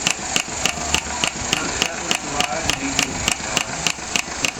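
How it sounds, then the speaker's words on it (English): Several old stationary engines run together at a homestead show display, giving a steady, regular beat of sharp exhaust pops or clicks about twice a second over a busy mid-level hum and background activity. "I have a few of my engines set up, running."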